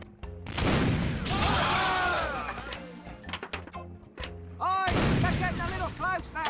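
Cannon shots fired in the video game Curse of Monkey Island, heavy booming bursts in quick succession, loud and close, with game music and other sound effects around them and no talk over them.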